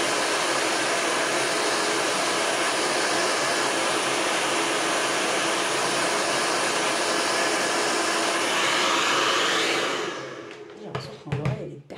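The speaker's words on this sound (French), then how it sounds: "je vais passer un coup mon sèche-cheveux sur mon encre" A hair dryer blows loudly and steadily on ink for about ten seconds, then switches off, leaving a few soft clicks and rustles.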